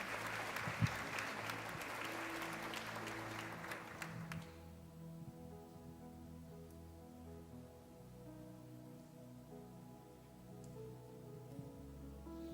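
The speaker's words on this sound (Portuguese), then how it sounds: "Vamos aplaudir ao Senhor recebendo o pastor Marcos" A church congregation applauds to welcome a pastor, loud dense clapping for about four seconds that then stops abruptly, leaving a quiet room with a low sustained musical hum.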